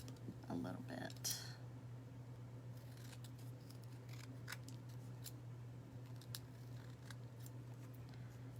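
Scissors trim scrapbook paper for wooden earrings with a few quick, close snips early on, followed by faint, scattered clicks and rustles over a low steady hum.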